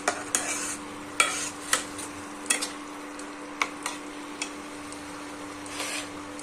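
Onion and garlic frying in a pan, with a spatula tapping and scraping at irregular intervals over a faint sizzle and a steady low hum.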